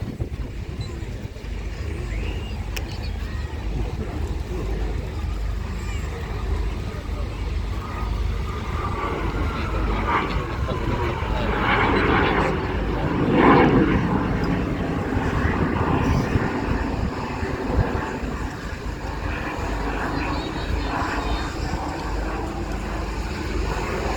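A BAC Strikemaster jet performing a flying display at Eastbourne Airshow 2025, its engine a steady distant roar that swells slightly mid-pass before receding, with wind noise and no talk.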